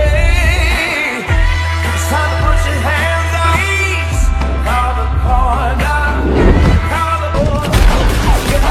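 Gunfire from the Django film as he shoots down the plantation guards, a dense barrage of booming shots under a loud orchestral music score, continuing steadily throughout.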